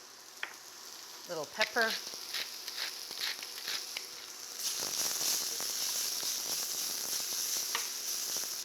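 Shallots sizzle in a pan over moderate heat with a soft, steady frying hiss that swells louder partway through, while someone speaks briefly near the start.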